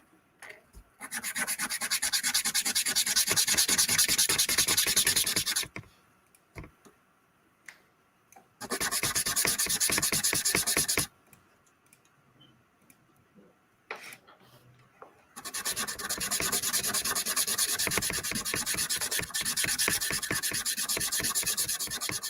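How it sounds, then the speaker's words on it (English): Rhythmic rasping of sandpaper on wood comes in three long bursts, separated by quiet pauses with a few faint taps. "I'm just gonna go straight back to sanding"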